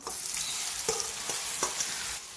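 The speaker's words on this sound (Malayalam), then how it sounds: "ഇനി നമ്മൾ ഈ മസാല പുരട്ടി വെച്ചിരിക്കുന്ന ഈ സോയ ചങ്ക്സ് ഇതിലേക്ക് ഇട്ടിട്ട് ഒന്ന് ഫ്രൈ ചെയ്തെടുക്കണം" Masala-coated soya chunks frying in a pan, a dense close sizzle with a few spoon scrapes, steady and moderately loud throughout, no voices.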